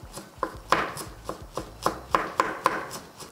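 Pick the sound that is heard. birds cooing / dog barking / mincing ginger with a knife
mincing ginger with a knife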